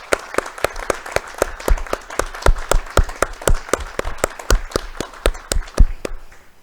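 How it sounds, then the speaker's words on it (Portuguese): Graduates are applauded at a graduation ceremony for the social sciences, physical education and history faculties. The crowd claps in a steady, evenly spaced rhythm that fills the hall and fades out at the end. "convido a todos uma efusiva salva de palmas pela formação"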